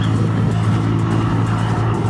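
A motorcycle cruising at about 70 mph on a highway, accelerating to pass a slower car or truck; a steady, loud engine drone mixed with wind rush holds constant through the whole stretch, with no voices.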